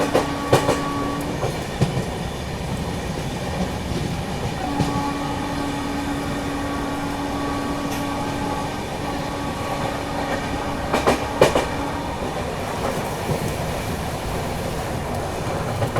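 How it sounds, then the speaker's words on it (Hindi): A 12276 New Delhi–Prayagraj Humsafar Express passenger train rumbles along the rails with rhythmic clacking, occasional squeals and steady hum as it picks up speed, heard from inside. "स्पीड अप हो रही है अपनी ट्रेन"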